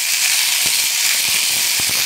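Fresh green peas hit a hot pan for kachori filling, giving a loud, continuous hiss and sizzle with a few soft knocks of a spoon or spatula in the pan.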